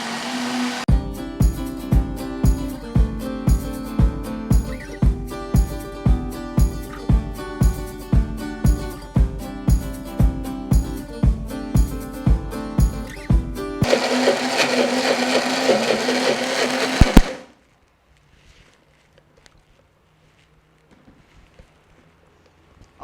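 A blender whirs as it purees gluten-free paçoca cake batter. Loud, steady mechanical drone with a rhythmic pulsing, then a brief higher whine before it cuts off abruptly into near silence.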